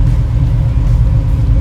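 A 1968 Chevrolet Camaro SS engine rumbles steadily at idle, deep and throaty, low and close, with no voices.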